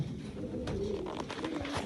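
Pigeons coo in soft, low, throaty rolls, close by and fairly quiet, with faint background noise and no voices.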